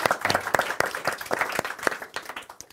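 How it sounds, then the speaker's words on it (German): Audience at an evening book reading applauds to welcome the moderator, a moderate burst of many hands clapping in a dense, uneven patter. "den dürfen wir auch mit einem Applaus begrüßen"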